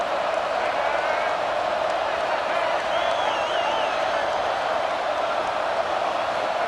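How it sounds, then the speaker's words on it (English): Steady crowd roar in EA Sports College Football 26 as the stadium urges a fourth-down stop, a continuous loud wash of cheering noise with no clear breaks. "The crowd is loud, hoping for a 4th down stop"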